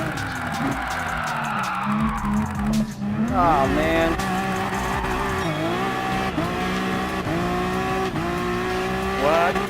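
Honda NSX Gr.4 drifting in Gran Turismo Sport, with tire squeal and engine revving that swell and fall through repeated slides, loud and continuous under a short spoken exclamation.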